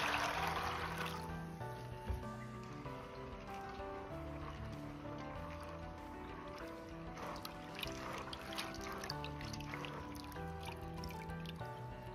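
Soaked soybeans are rinsed by hand in water, with steady close sloshing, trickling and splashing that runs continuously throughout.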